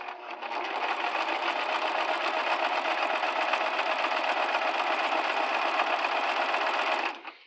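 A Brother LX3014 sewing machine runs a satin stitch on fabric, whirring steadily and closely in one continuous run of about seven seconds before stopping.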